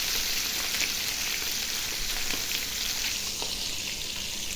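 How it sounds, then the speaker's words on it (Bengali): Pieces of tuna fish fry in hot oil with a dense, steady sizzle and crackle, close and continuous throughout, with no voices. "তো আমি মাছগুলো ভেজে নিতেছি দেখুন।"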